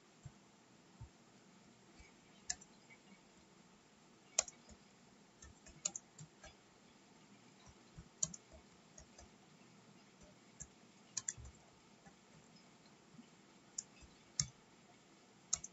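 Typing on a computer keyboard comes as quiet, irregular clicks and taps that are close by but faint, with short pauses between bursts.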